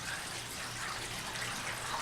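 Water rushing steadily through pipes in a basement studio, a continuous broadband hiss and gurgle heard close and fairly loud throughout, with no talking.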